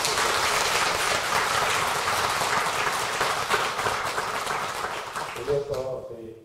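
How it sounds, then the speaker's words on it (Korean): Audience at a Won Buddhist dharma assembly giving a big round of applause, dense continuous clapping from many hands that fades at the end as a voice begins speaking. "큰 박수 한번 부탁드립니다"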